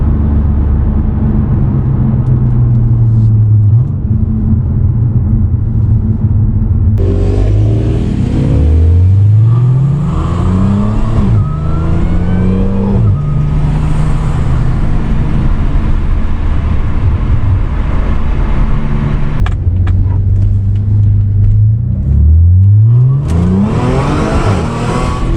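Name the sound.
modded supercharged Audi S4 engine accelerating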